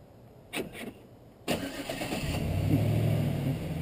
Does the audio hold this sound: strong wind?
no